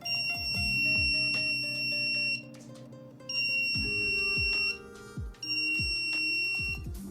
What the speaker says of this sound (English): LED turns on, buzzer starts ringing.